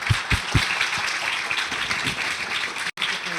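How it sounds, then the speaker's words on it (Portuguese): Audience at a university engineering-week lecture on construction waste applauding a speaker, a few loud hand claps close by at the start, then a steady wash of clapping from the room. "Eu gostaria de uma salva de palmas para a Lilian."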